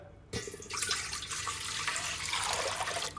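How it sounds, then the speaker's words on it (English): Water pours steadily into a cooking pot in a home kitchen while rice is prepared, a close, continuous rushing splash that starts abruptly after a brief quiet moment and continues evenly to the end. "Another pot, add 2 liters of water."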